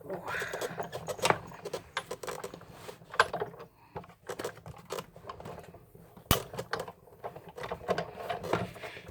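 Card-making die-cutting machine cranking plates through, a run of irregular mechanical clicks and ratchety knocks at close range, with someone talking intermittently over it.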